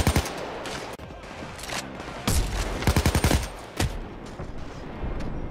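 Police gunfire in Payday 2 crackles in rapid volleys of overlapping shots, with sharp bursts and short pauses amid busy game noise.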